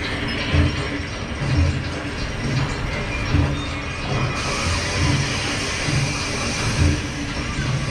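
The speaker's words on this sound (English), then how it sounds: "Train is now in motion." A Disneyland ride train starts moving with a steady mechanical clatter and rhythmic clunks repeating about once a second under a dense, close-up rumble.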